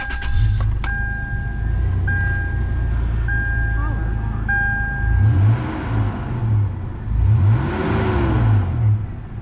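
A 2002 Toyota 4Runner, third generation, starts and idles outdoors in the sun, with a steady low engine rumble throughout, a few short electronic chimes near the start and a slight rise in revs partway through.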